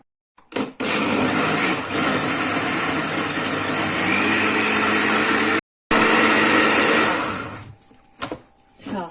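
An electric blender whirs loudly and steadily, mixing a large batch of juice with vanilla. The motor runs continuously for several seconds, cuts out briefly, restarts, then winds down near the end.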